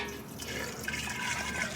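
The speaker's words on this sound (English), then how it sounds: "Now I'm gonna put some of the water on this honey" Water trickles and splashes steadily at close range onto honey for elderflower mead, a soft continuous pour with faint dripping, no voices.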